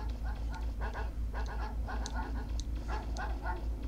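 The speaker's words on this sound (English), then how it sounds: "Shut up, dog." Dog barking in Mega Man Legends, a series of short repeated barks over a low steady background hum.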